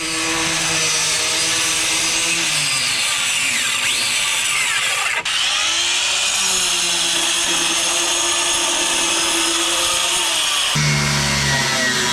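A power tool cutting a round radius into a camper van panel, producing a loud, steady, buzzing whine with shifting tones that runs without pause for about twelve seconds.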